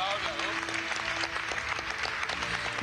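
Applause at a political announcement of primary election results, a steady crowd clapping throughout with a voice speaking over it.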